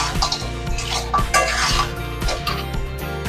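Fried crabs are tipped into a pan of spicy gravy and stirred. Loud, close clattering and scraping of a utensil against the pan sits over a light sizzle, with busy bumps throughout.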